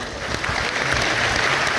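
Crowd applause at a live Bageshwar Dham divya darbar religious gathering, thanking a woman who brought bricks for a hospital: a dense, steady wash of many hands clapping at once, sustained and fairly loud throughout.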